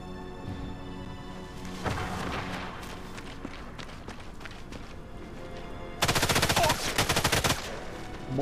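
Light machine gun fire in the Sniper Elite 5 video game: a dense, loud burst of rapid automatic shots near the end, preceded by scattered gunfire, footsteps and game ambience.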